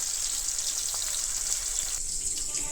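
Katla fish fries in a pan with a steady, hissing sizzle that holds at an even level from start to finish, with no voices.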